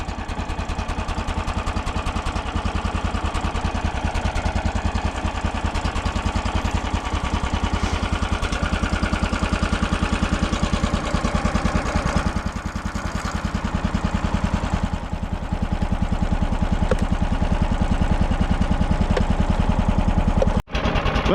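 An engine idles with a stuck choke cable in a cold Alaska bush winter setting, a steady close rumble with a fast rhythmic chug that holds for about twenty seconds with no talk over it.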